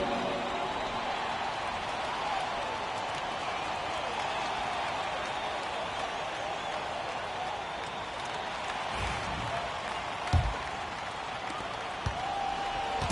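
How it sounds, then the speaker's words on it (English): An NBA arena crowd applauds the Pacers Youth Dance Team during a Pacers versus Knicks game, a sustained dense roar of clapping and cheering with a public-address voice mixed in under it. "Please give a big round of applause for your Pacers Youth Dance Team"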